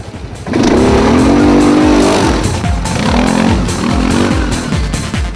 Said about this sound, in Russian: Например, катание на квадроциклах.